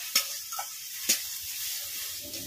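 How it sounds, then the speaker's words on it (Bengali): Spice paste with salt and turmeric frying in a pan for an egg dish, with two sharp clinks of a spoon on metal over a quiet sizzle, close and without talk. "মশলাটা এখন ভালো করে কষিয়ে নেব।"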